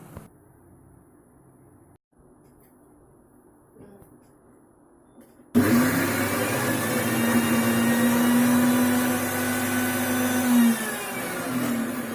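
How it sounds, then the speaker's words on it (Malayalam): A mixer grinder grinding coconut with mustard starts abruptly after a quiet stretch, then whirs loudly and steadily at close range with a slight wavering whine until the end. "ഇനി ഇത് നന്നായി അരച്ചെടുത്തിട്ട് വരാം."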